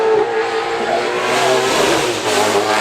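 An Australian Supercars V8 race car charges up the Goodwood hillclimb, its engine roaring loud and continuous with a steady high-pitched howl that swells near the end, no voices over it.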